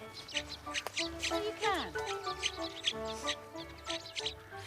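Hidden thrush nestlings call from a nest in patches of gorse and bramble outdoors, a steady stream of thin, high, repeated chirps, with a person briefly speaking over them.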